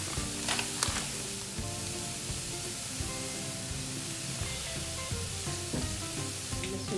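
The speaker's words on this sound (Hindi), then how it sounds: "ये मैंने बिल्कुल फुल आंच पे इसे फ्राई किया है" Chili powder, crushed red chili and garlic fry in a pan over full heat, giving a steady, loud sizzle that runs the whole time, with occasional stirring scrapes and no voices.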